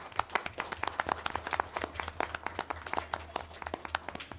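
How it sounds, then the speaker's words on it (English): Scattered hand clapping from a modest audience at a school board meeting, individual claps distinct and uneven against a quiet room with a low hum. "Can we give them a round of applause,"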